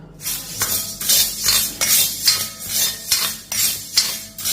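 Black gram dropping into a kadai for roasting, heard as a series of sharp metallic clinks and rattles about every half second, close and clear with no talking.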